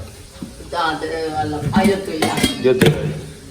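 Pots and dishes clatter and clink as they are picked up and set down in a home kitchen during festival cooking, close and busy, with someone talking throughout.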